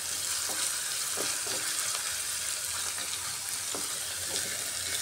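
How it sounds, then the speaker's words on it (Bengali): Onion, garlic and ginger fry in a pan with a continuous close hiss and sizzle, broken by a few light stirring scrapes. "দেখুন ভাজা ভাজা হয়ে এসছে পেঁয়াজ,"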